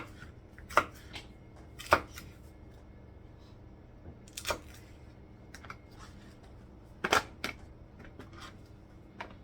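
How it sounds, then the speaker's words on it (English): A knife slices a green pepper and an onion on a cutting board for a beef stir fry. A handful of sharp, widely spaced chops stand out in a quiet room, with no voices. "now it's time to cut your vegetables up"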